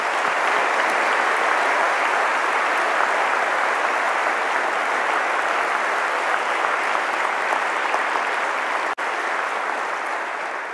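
Sustained audience applause filling a graduation ceremony hall, dense and steady throughout with a brief dip near the end, no voices over it.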